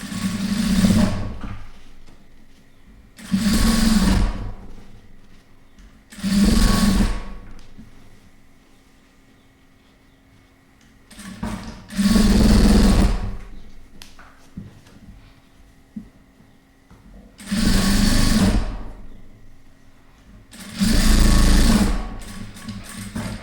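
A sewing machine stitches a full collar neck blouse in six separate bursts, each a few seconds of loud, rapid whirring, with quiet pauses between them.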